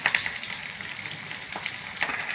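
Dals, cumin, green chillies and onions fry in hot oil with a continuous bright crackling sizzle and small popping bursts, close and fairly loud with no voices.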